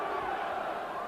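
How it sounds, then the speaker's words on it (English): Boxing crowd chanting a fighter's name, Bruno, at a Lennox Lewis vs Frank Bruno bout in a cold outdoor arena, a steady massed roar of voices that stays loud and unbroken through the whole moment. "Crowd chanting, Bruno, Bruno."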